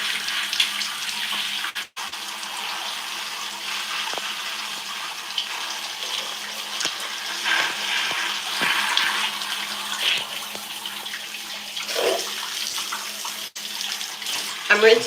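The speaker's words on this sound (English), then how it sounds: "I'm rinsing my hair" Water from a faucet runs steadily while conditioner is rinsed out of hair worn in twists, a continuous close splashing broken briefly by short gaps and shifting spatters.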